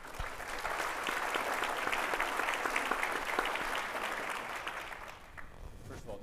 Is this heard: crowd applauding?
yes